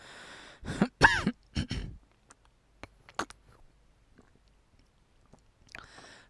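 A cluster of harsh coughs and throat-clearing bursts close by, followed by a few faint clicks and a short exhale.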